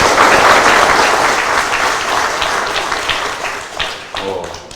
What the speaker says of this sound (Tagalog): Lahat ng pulis namin, palakpakan nyo naman.